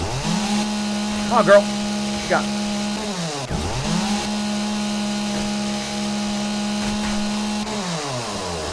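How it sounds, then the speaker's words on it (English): A chainsaw roars loud and close in the video game 7 Days to Die, a steady revving drone that drops off and restarts twice, while someone talks over it. "Cop with a chainsaw."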